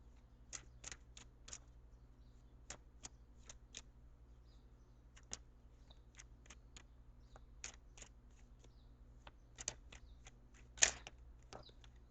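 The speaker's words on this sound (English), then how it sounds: "I'm going to shuffle for a few more seconds" Tarot cards are shuffled in quick, crisp riffles, repeated bursts of light papery snapping close up in an otherwise quiet room.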